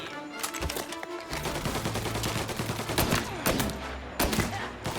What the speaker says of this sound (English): Gunshots heard.